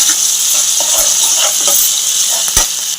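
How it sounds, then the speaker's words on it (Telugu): Curry leaves hit hot oil and sizzle loudly up close, a steady bright hiss with small pops and a faint stir or clink near the end. "కొంచెం కరివేపాకు అయితే వేసుకోవాలి."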